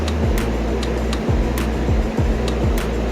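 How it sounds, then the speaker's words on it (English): Fans run loudly and steadily in a workshop while a Kawasaki ZX10R is being painted, with a constant whirring drone broken by periodic rhythmic whooshes and light ticks, and no voices. "Sorry for all the fan noise, as always."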